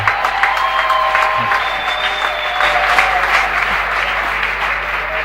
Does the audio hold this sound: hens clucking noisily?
no